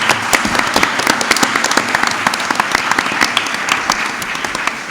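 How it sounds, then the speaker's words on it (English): Audience at a NextGen 2016 forum applauding the panelists, loud sustained clapping from a crowd filling the room for several seconds. "how about a big round of applause for all our panelists?"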